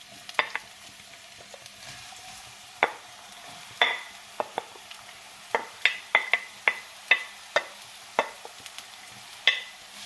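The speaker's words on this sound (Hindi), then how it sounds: "अब मैं प्याज को लाइट ब्राउन करूँगी।" Chopped onion frying in oil in a pan, to be taken light brown: a soft steady sizzle with a dozen or so sharp, close scrapes and taps as it is stirred, no talking.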